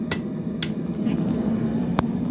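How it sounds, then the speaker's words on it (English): A blacksmith's heavy hammer strikes metal a few times in sharp, separate clangs over a steady low workshop hum, fairly near and not rhythmic. "it'll wear your arm out faster because it's a heavier hammer"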